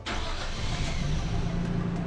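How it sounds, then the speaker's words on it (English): A Nissan R32 Skyline GTS-T engine cranks and catches, settling straight into a loud, steady rumble nearby, heard on its own. "Now we can start the car up and hopefully the battery light goes away."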